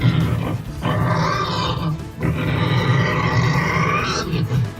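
Pig grunts pitched down into a deep Zerg creature effect for Heroes of the Storm: two long, rumbling, growling calls with a short pause between them and a brief grunt at the end, loud and close.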